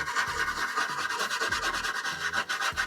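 Brush scrubbing softened primer paint off a metal tool, a steady close rasping rub with rhythmic back-and-forth strokes and no talking.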